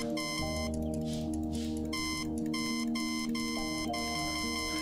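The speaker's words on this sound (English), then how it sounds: "Oh, it's an alarm clock." In the video game Until Then, an alarm clock rings as a continuous electronic beeping tune, with repeating tonal phrases broken by brief gaps and a steady loud level throughout.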